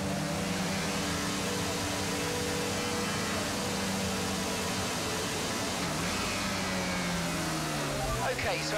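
Formula 1 cars in the F1 22 video game rolling around Bahrain on the formation lap, a steady broadband engine drone and hum that holds at one level throughout with slight pitch shifts, no talk over it.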